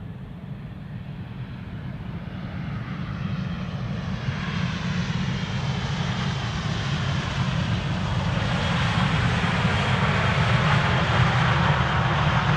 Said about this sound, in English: And here we have Lufthansa flight 988. It is an A319 in the old livery.